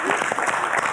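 An audience applauds at an evening designer's day show in Gomel, a dense, continuous patter of many hands clapping at close range with no pauses.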